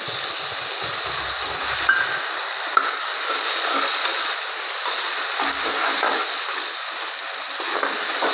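Onion paste sizzling in a pan of hot oil with asafoetida, whole cumin and dried red chili, a steady broadband hiss of frying throughout with faint stirring clinks, no talk.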